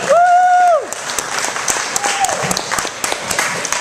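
An audience applauds as a comedian comes onstage at a comedy show, a close, busy wash of clapping under a held tone and a brief voice.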